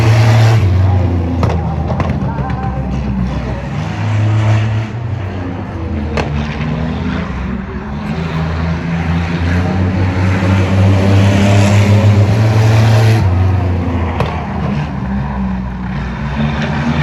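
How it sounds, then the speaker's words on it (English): Race cars roar around a short oval speedway at a night race at Veterans Motorplex, Highland Rim Speedway, their engines a loud, continuous drone that rises and falls as the pack passes, with crowd noise around. "Lucas Bunch out front, Eddie Lewis closing the gap down the back straightaway."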